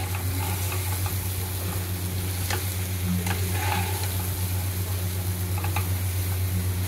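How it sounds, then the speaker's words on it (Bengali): Eggplant pieces coated in spices fry in oil as they are stirred, a steady close sizzle broken by occasional utensil scrapes over a constant low hum, with no voices. "দেখছেন, আমি বেগুনগুলো নাড়ছি, মশলাটা যাতে বেগুনের ভেতরে ঢোকে।"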